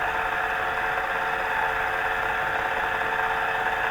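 The motor of a homemade guitar pickup winder spins at 1,000 RPM, a steady, even whirring hum with a constant high-pitched whine, unchanging and close for the whole stretch.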